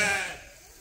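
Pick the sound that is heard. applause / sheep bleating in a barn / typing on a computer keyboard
sheep bleating in a barn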